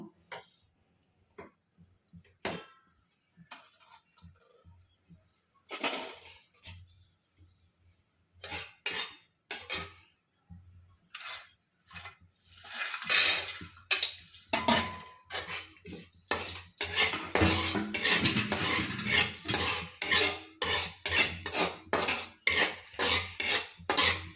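Dry fruits, including pistachios, roast in ghee in a pan on the stove, first as sparse clinks and taps of utensil against metal, then building into a denser, continuous rattling and sizzling with rhythmic stirring strokes close by.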